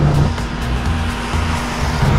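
A Saab car engine holds a steady, loud drone that stays close and unbroken throughout, with no voices over it.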